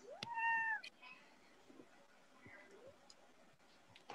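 A house cat gives one clear, close meow near the start, then quieter rustling and faint room noise follow with no other calls.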